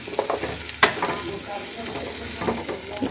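A spiced filling for stuffed bitter gourd is stirred in a pan, giving a soft sizzle with scraping strokes and one sharp clack of the utensil, with no talk.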